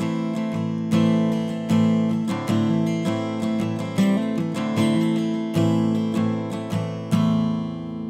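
Acoustic guitar strummed with a relaxed pick grip, steady rhythmic chords with accented downstrokes, full and close, played alone without talk.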